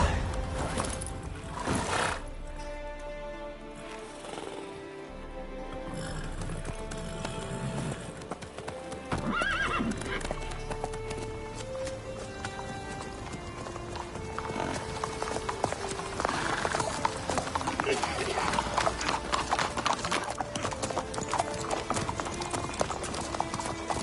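Hooves trot in a steady clip-clop rhythm under music in The Witcher 3, with a horse whinnying at times.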